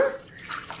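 A short splash of water poured into a pot of sugar and jaggery for besan laddu syrup, a brief liquid gurgle lasting under a second.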